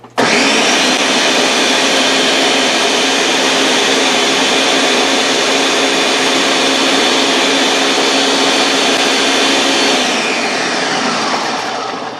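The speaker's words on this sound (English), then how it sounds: "These blender drinks are a great idea." A blender mixing drinks whirs continuously at high power for about ten seconds, a dense steady roar that tapers off slightly at the end.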